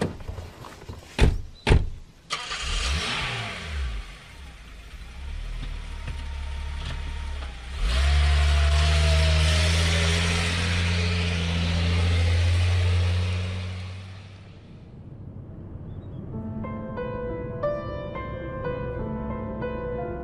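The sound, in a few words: car being driven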